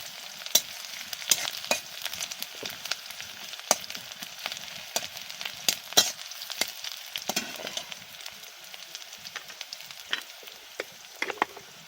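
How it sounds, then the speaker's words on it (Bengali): Sliced onions frying in hot oil while being stirred in a pan in a home kitchen, a steady close sizzle broken by frequent sharp scrapes and clicks of the spatula against the pan. "পেঁয়াজটা ভালো করে ভেজে নেব আমি"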